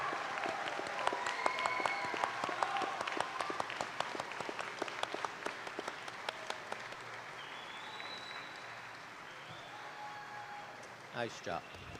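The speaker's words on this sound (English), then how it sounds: "Let's give them a round of applause for their support, encouragement, and belief in your journey." Graduation-ceremony audience applause at a college completion ceremony, a steady wash of many hands clapping that thins out toward the end, heard at a moderate distance with a voice speaking near the close.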